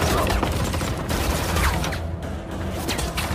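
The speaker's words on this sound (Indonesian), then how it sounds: "Kemudian terjadilah baku tembak antara tim pasukan Korea Selatan dan tim pasukan Korea Utara." A dense burst of gunfire from a shootout between South and North Korean soldiers in the 2022 action film Yaksha: Ruthless Operations. Overlapping shots rattle loud and close for the whole stretch, with no gaps.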